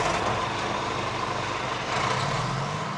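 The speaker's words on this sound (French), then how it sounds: "Le bruit du bulldozer attire toutes les gourmandes des alentours." Heavy bulldozer working nearby to clear Corsican scrub, a steady loud diesel engine rumble with grinding, clattering mechanical texture throughout, no voices.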